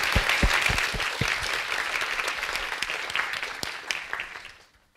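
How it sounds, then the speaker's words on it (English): Audience applause closing a talk at a scientific programming session, clapping steadily at moderate loudness through most of the stretch, then thinning out and fading to near silence at the end. "let's applause for Oliver Harry."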